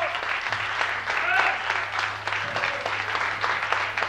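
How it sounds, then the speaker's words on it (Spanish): Audience applause for a blues band at a 1994 show, steady dense clapping heard over a continuous low hum, with some faint voices mixed in. "se merecen un aplauso porque son amigos"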